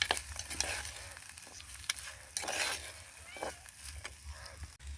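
Thoran vegetable stir-fry being stirred in a pan with salt added, giving soft scraping and a low sizzle in uneven strokes, close by, with a few sharper utensil knocks.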